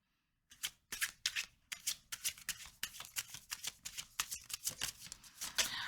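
A tarot deck is shuffled by hand up close, a quick run of crisp riffling card flutters and soft slaps repeating in a steady rhythm, quiet and without talking.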